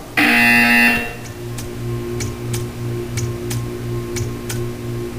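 A buzzer sounds in the Portal 2 video game, a loud, bright harmonic tone lasting about a second, followed by a steady low hum with a faint periodic tick repeating through the rest.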